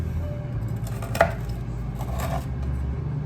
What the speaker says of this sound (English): we will cut them at a diagonal